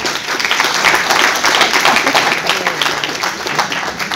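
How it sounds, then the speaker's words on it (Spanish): An audience at a seminar applauds, steady close clapping from many hands sustained throughout. "Se lo aplaudí, aplaudan bien."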